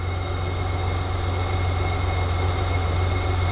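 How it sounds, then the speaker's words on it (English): A BMW E21 323i engine idles steadily with a smooth, low, continuous hum and a faint vibration, unchanging throughout. "Just listen to this engine."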